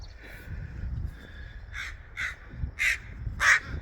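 Several crows caw a few times, the calls growing louder toward the end over quiet background rumble.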